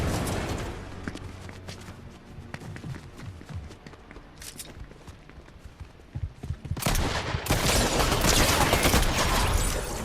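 Gunfire in a superhero-season shooter video game, sharp repeated shots and bursts over ongoing in-game movement noise, getting louder and denser toward the end.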